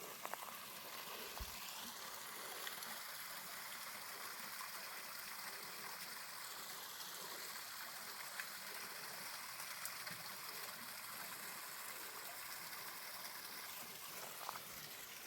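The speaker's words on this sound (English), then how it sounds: "There's a little waterfall." A small waterfall at Silver Creek Falls splashes and rushes steadily, a soft continuous stream of falling water heard from a short distance.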